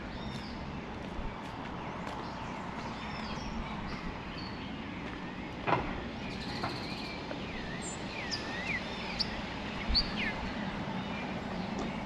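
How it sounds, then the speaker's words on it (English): Birds chirping and calling intermittently over a steady outdoor background hum, with occasional brief louder sounds nearby, in Wild Flower Park, Port of Spain, Trinidad. "Can you hear the birds?"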